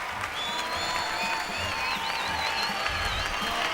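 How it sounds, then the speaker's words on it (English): A crowd applauds at the 2005 European dance championship final in St. Petersburg: steady, dense clapping fills the hall, with shrill whistles rising above it. "Taking the applause from the crowd"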